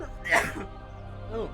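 A single sharp sneeze bursts out close by, followed by a brief murmured voice.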